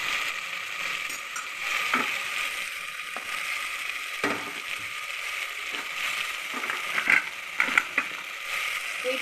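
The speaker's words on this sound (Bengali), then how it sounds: "এবার আমি এই পর্যায়ে সবজিগুলো দিয়ে দিচ্ছি" Chicken cooked down in spiced oil sizzles steadily in a pan as vegetables go in, with a continuous hiss and a few scraping, stirring clicks, close and without talk.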